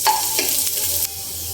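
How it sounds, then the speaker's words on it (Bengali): Chopped garlic dropped into hot oil in a pan, with a loud burst of sizzling and stirring that settles into a steady frying hiss. "এখন আমি এখানে দিয়ে দিব 1 চামচ পরিমাণ রসুন কুচি"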